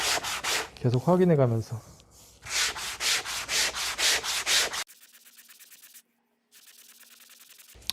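Hand sanding of the wooden seat of a Maloof rocking chair makes rhythmic, close rasping strokes in quick succession, broken by a short spoken phrase, then lighter, thinner scrubbing after a brief silence.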